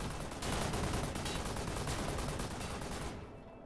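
Rapid gunfire from the Wolfenstein: The New Order video game, a dense sustained burst of automatic shots for about three seconds before cutting off abruptly into near silence.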